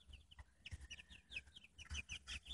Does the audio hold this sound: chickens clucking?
yes